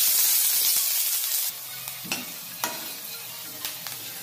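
Chillies and onion dropped into hot oil with cumin in a kadai, a loud close sizzle that hisses hard at first, then settles into steady frying with a few sharp crackles and stirring clicks.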